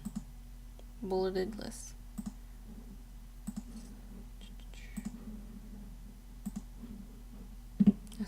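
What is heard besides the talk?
mouse clicks selecting an icon on a computer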